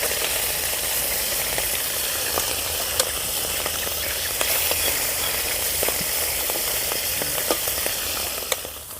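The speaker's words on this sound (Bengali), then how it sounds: "তেল গরম হয়ে গেছে এবারে মাছগুলো দিয়ে দেবো" Small river fish frying in hot mustard oil in a wok, a dense continuous sizzle and hiss with scattered sharp pops and spatters, close and loud.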